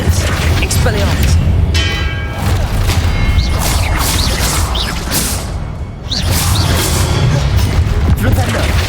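Expelliarmus spell effect from a Harry Potter video game: a dense, loud burst of magical whooshing and shimmering chimes over a rumbling low boom, sustained throughout with a brief dip near the middle.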